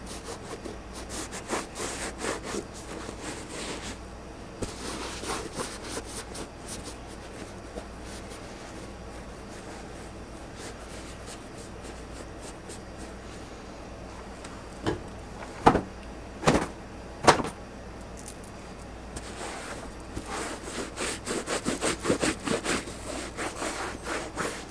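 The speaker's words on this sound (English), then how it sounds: "We're just gonna wipe this shoe down." A rag is rubbed over a Jordan sneaker with repeated scratchy, scrubbing strokes at close range, and a few sharper thumps and louder bursts come near the middle and toward the end.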